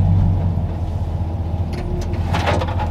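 A 1966 Ford with a swapped 392 Hemi engine idles with a deep, steady low rumble, close and loud, then rises briefly toward the end as the engine is revved before a trans-brake launch.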